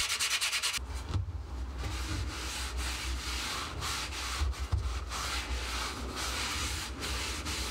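Sanding on a blued vintage axe head gives a steady, continuous abrasive rubbing that runs close and fairly loud for the whole stretch, with only brief dips in strength. No one speaks.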